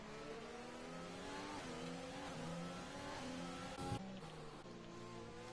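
A Formula 1 car in a racing video game at the Zandvoort circuit screams past, its high engine whine sweeping steadily in pitch with overlapping engine tones, loud and continuous, with a brief dip as it passes.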